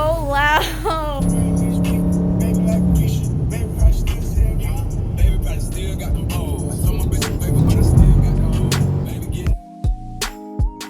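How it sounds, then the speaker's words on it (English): A Dodge muscle car fires up cold through catless mid pipes, its exhaust roaring loud and rough for several seconds before settling, with people talking nearby throughout. "first cold start with the catless mid pipes."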